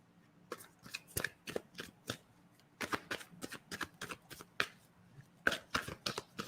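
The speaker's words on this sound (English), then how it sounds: "She got to shuffle the deck over here." A deck of tarot cards being shuffled by hand in repeated crisp riffling bursts and flicks, close and clear, with short pauses between runs.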